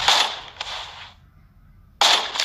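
Gunshots in the Free Fire mobile game, with two loud, sharp bursts of sharp, crackling fire, the first trailing off in about a second and the second starting abruptly after a brief quiet pause, with no talking.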